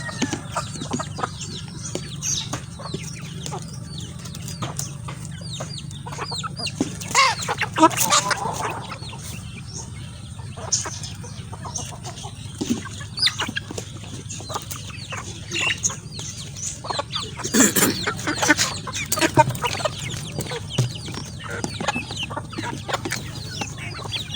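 Chickens cluck and peck around a farmyard at feeding time, with scattered short clucks and scratching noises, several louder bursts of squawking, and a low steady background hum.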